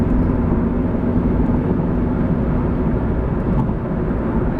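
Steady broadband road roar fills the cabin of a Subaru BRZ cruising on the highway, a constant low rumble with tire and wind noise holding at an even, loud level throughout.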